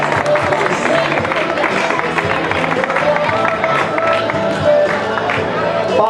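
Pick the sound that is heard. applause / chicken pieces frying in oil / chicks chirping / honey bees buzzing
applause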